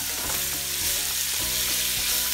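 Mung bean dish ingredients sautéed in a pan with a ladle: loud continuous sizzling with repeated scraping and clattering strokes of the ladle against the pan, no voices.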